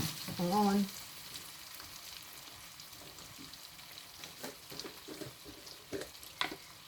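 Minced pork with chili paste being stir-fried in a pan, a soft steady sizzle broken by scraping and clinking of the spatula, close and quiet, with a brief tonal sound at the start.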